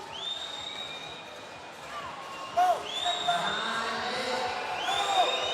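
Crowd in an arena at a women's 3x3 basketball final in Amsterdam, Netherlands versus Canada, reacting with a swell of loud voices and whoops, with whistle-like tones and ball bounces underneath and a commentator talking.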